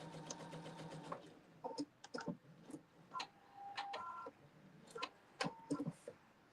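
A Pfaff sewing machine stitches in short, uneven runs, a soft mechanical whir with light ticking that starts and stops repeatedly, fairly quiet and close.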